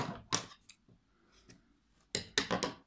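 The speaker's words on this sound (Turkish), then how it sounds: "Bir zincir çektim ve makasımla kesiyorum." Scissors snip through crochet yarn after a baby beret is finished, giving a few sharp, close cutting clicks in two bursts separated by a quiet pause.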